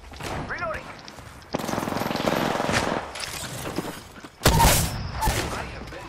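Video game shooter gunfire in loud sustained bursts, with a sharp crashing blast near the end, while a player talks excitedly over the action.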